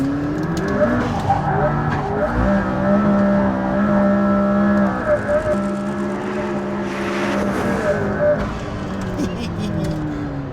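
A McLaren P1 supercar driven hard, with a loud wailing engine note that rises and falls and bursts of tyre squeal and skidding near and throughout.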